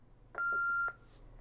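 A Yaesu FTM-500 mobile radio gives a single clean electronic beep lasting about half a second as its dial is pressed, against a quiet background.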